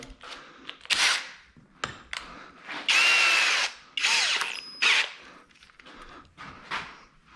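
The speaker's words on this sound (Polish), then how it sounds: "najpierw to chyba bym sobie jeszcze nawiercił takim cieniuteńkim wiertłem" A power drill with a very thin bit whirs in several short bursts, the longest lasting about a second, with quiet gaps between them, close by.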